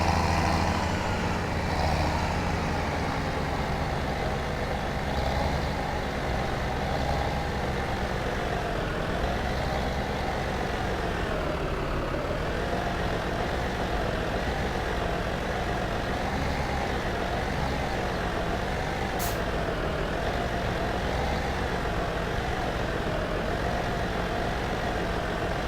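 A truck's engine pulling a low loader in Farming Simulator 17, a steady droning rumble held at an even level from start to finish.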